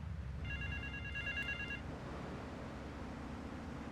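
A phone rings in Grand Theft Auto III, a short electronic trilling ring over steady city traffic and engine rumble, faint and fairly distant.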